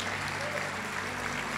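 Audience applause at a gratitude talk, a soft, dense wash of clapping heard at a distance with no voices over it.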